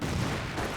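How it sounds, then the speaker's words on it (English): A frag grenade exploding in the strategy game Company of Heroes, a single dense burst of blast noise filling the short moment at close range with no talk over it. "Frag grenade thrown."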